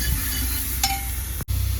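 Spices for a tadka tempering sizzle in hot oil in a pan, a brief, steady crackling hiss with a light clink and a momentary dip near the end, no talking.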